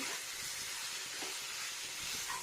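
Potato and pointed gourd fry in a pan for a Bengali curry, giving a steady, close sizzling hiss with small crackles throughout and no voices.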